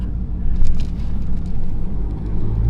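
A Dodge Hellcat engine in a street race gives a deep, rumbling, crackling roar at close range, surging slightly over a few seconds.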